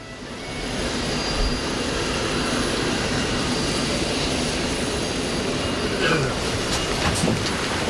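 An aircraft engine roars steadily and loudly before takeoff, rising from a quick swell into a constant broad drone that fills the whole stretch, with faint clinks near the end.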